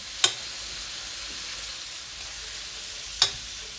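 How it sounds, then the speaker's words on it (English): Shrimp sizzle in a pan in a steady, close hiss, with two sharp clicks of a utensil near the start and end. "So we're going to continue cooking our shrimp. So put it back"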